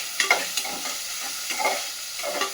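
Onions fry in a pan with a light sizzle while a spatula stirs them in several quick scraping bursts, close and moderately quiet, with no talking.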